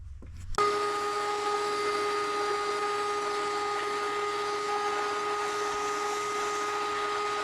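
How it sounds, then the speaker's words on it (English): A small vacuum hose runs steadily, cleaning debris from the fuel injector ports of a 1990 Chevrolet Cavalier Z24; the motor switches on abruptly and holds a close, constant whine with a steady tonal hum and no talking. "I'm going to see if I can run my little vacuum hose and clean that out a little bit first before I put each injector in"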